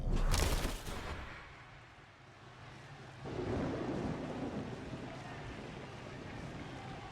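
Stormy weather ambience in the video game Blood Bowl 2: a loud thunder crack at the start, then a steady wash of rain and rumbling that swells again midway and continues without talk.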